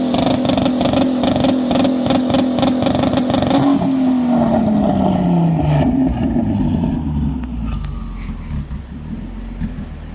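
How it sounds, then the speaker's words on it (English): A turbocharged 3.7L V6 car holds a loud, steady 2-step launch-control rev, the limiter crackling rhythmically before the engine drops off and settles to a rough idle. "let's try that 2-step out"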